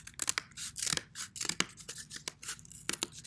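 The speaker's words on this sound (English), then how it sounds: "And I'm going to cut that out with my scissors." Scissors snip repeatedly through cardboard while a shoe midsole is being cut out, giving close, crisp cuts in an uneven rhythm with no talking.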